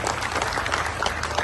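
Audience applause at an Indonesian official ceremony with a government minister present, dense and steady clapping across the whole stretch, fairly loud and close, with no talking over it.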